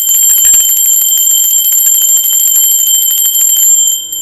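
A bell rings with a bright, sustained metallic tone, loud and close, its shimmering overtones holding steady for about four seconds before fading slightly at the end.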